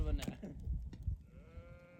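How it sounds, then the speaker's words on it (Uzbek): Sheep bleat from a flock out on a mountain trip, a couple of loud wavering calls near the start and a higher drawn-out bleat later, with people talking over them. "Anaga qo'ylardi qara."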